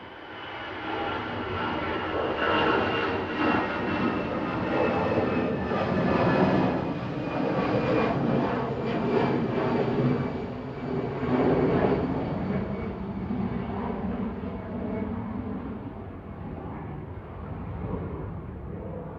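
An EasyJet Airbus A320-200 jet airliner bound for Paris Charles de Gaulle at Manchester Airport gives a loud, sustained engine roar that holds steady for the whole stretch, with no talking.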